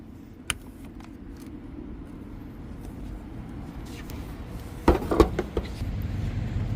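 A fast-charger plug is pulled from a Ford Mustang Mach-E. A sharp click comes first, then a cluster of louder clunks and rattles later, set against a quiet, steady outdoor hum.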